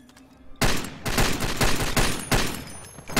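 A gunfight in the video game Far Cry 2, with a loud, close volley of rapid shots breaking out after a brief quiet start and continuing in bursts.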